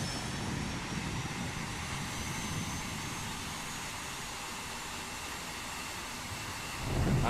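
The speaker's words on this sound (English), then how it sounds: "So the engines are starting up now." Aircraft engines spin up in Microsoft Flight Simulator 2024, a steady, broad jet-like roar that holds evenly throughout and swells slightly louder at the very end, with no talking.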